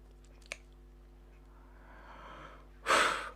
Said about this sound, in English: That's me breathing, folks.